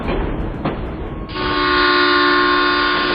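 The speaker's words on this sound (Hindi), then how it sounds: "बज गया है ट्रेन का हॉर्न" A train horn blares loud and sustained as the train pulls away from a station, a steady tonal blast that begins midway and holds to the end, following rumbling platform noise.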